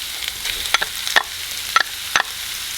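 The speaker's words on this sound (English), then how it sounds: "I'm going to be adding some freshly ground pork." Freshly ground pork sautéing with aromatics for a coconut curry chicken noodle soup, a soft steady sizzle broken by sharp scraping stirs and clacks of a utensil against the pan, close and without voices.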